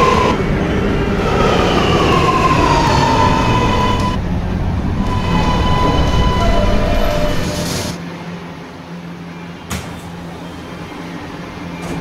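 An R211 subway train on the R local, simulated in the Roblox game PTA Subway, rumbles steadily with rising and falling motor tones and faint wheel squeal, then drops to a quieter hum as it slows near the platform.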